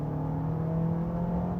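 Honda ZR-V hybrid engine under deep throttle, a steady humming drone with a strong low tone heard from inside the cabin, smooth and continuous with no talking.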